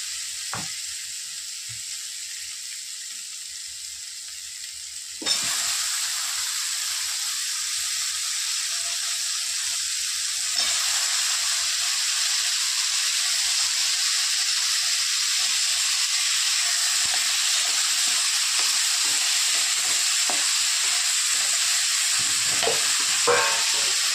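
Potatoes for a quick cauliflower-and-potato curry hit hot oil partway through. A sudden loud sizzle breaks out and continues as a dense, steady hiss while they are stir-fried, with no talking.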